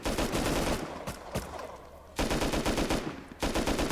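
Gunfire in the survival game Rust, with rapid automatic bursts broken by brief pauses and then resuming, loud and close, with no talk.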